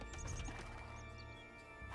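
Light cavalry horses in the Age of Empires 2 video game, quiet scattered hoof clops with a brief whinny.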